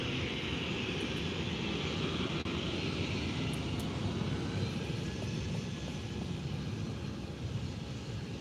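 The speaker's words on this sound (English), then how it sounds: "Jet2 has a 737-800 without winglets" A Jet2 Boeing 737-800 without winglets at Faro Airport produces a steady, distant broadband jet roar that holds at a constant low level, with no voices heard.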